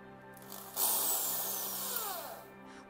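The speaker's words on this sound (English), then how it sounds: "We'll drill the cap right in the center." A power drill bores into the center of a PVC pipe cap, a steady whirring grind lasting nearly two seconds, close and fairly loud, then stopping abruptly.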